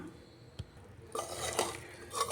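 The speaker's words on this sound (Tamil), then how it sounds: "நல்லாவே வெந்திருக்குது. கிளறி விடலாம்." Plain kuska rice is stirred in a cooking pot: a quiet start with one sharp tap, then about a second of close, continuous scraping and rustling of rice against the pot; no voices.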